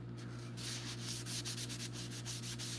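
A coated surface is sanded after one coat, a steady rasping rub in quick back-and-forth strokes, close and fairly quiet over a constant low electrical hum.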